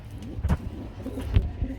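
Lahori pigeons, including a black checker Lahori, coo at a pigeon farm: a few soft, low, throaty coos close by in a short burst, with faint background noise.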